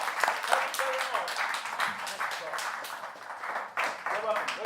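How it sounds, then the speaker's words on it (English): A room of people gives a round of applause after a panel discussion, with dense, continuous clapping that swells and holds. Some voices mix in. "One round of applause."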